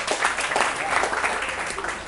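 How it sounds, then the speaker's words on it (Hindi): Audience at a Hindi poetry recital applauding, a dense burst of clapping from a crowd filling the short moment, fairly loud and steady. "एक बार जोरदार तालियां स्वयं के लिए बजानी चाहिए"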